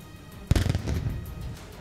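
A Russian navy cannon salute fires on Navy Day to greet President Putin: one loud, deep boom bursts out after a quiet moment, then rolls off into a long, rumbling echo.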